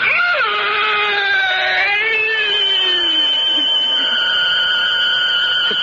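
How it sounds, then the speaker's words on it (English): A piercing, wailing shriek from a radio drama as a sharpened oak stake is driven through a vampire's body, loud and sustained with sliding, cat-like pitch bends that trail off. "that fearsome shriek which still sounds in my dreams rent my ears"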